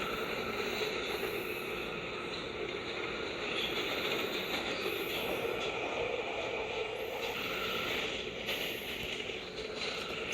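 Riding a South Korean subway train, a steady loud rumble of wheels and carriage hum fills the space, with faint higher squeals rising and fading over the continuous drone.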